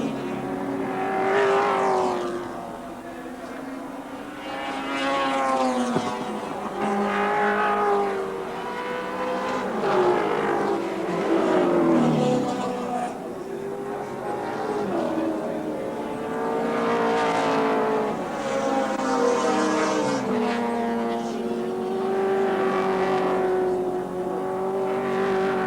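Group C touring cars from the 1984 ATCC racing at Wanneroo Raceway, engines rising and falling through repeated revving surges as cars crest a rise and brake, with a commentator talking over them throughout.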